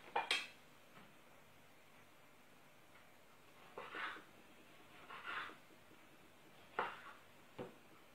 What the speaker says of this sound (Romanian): Vom pune 100 de grame de roșii și le tăiem așa pe toate.